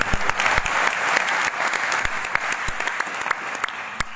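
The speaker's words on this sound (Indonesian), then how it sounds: "Kita beri aplaus bagi mereka" Sustained audience applause from a crowd at an indoor talk or seminar, dense steady clapping with sharp individual claps standing out, filling the whole stretch without voices.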